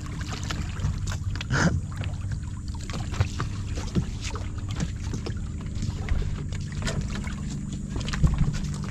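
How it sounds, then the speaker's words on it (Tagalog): A small outrigger boat moves across open water with a continuous low rumble of motor and wind, with occasional splashes and knocks. "ganyan ang bangka para mabilis-bilis tayong kumilos."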